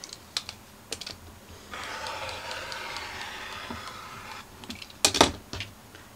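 A rotary cutter is pushed along a ruler through fabric while making a rice heating pad, giving a soft, sustained scraping swish in the middle, framed by light clicks and taps of the ruler and tools nearby.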